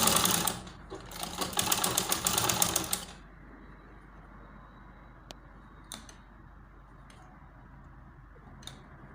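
Sewing machine stitching an Ankara shirt collar runs in a fast, loud mechanical chatter for a few seconds, then stops, leaving faint clicks and handling ticks.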